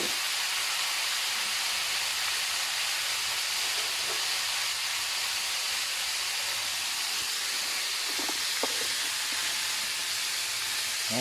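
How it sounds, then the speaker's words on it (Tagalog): Small crablets deep frying in hot oil give a steady, close, even sizzling hiss that holds throughout, with a few faint clinks near the end. "So, i-deep fry natin siya."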